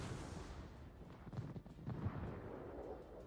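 Deep, rumbling booms of naval gunfire from the warships Ohio and Des Moines in a 6v6 tournament video game match, heard fairly faint and distant under a continuous low roar.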